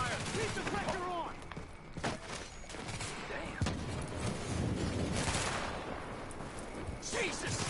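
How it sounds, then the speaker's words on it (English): Gunfire from looters in The Division video game rattles in repeated bursts and single shots amid a dense, loud game soundscape, with voices talking over the shooting. "They're laying down suppressive fire."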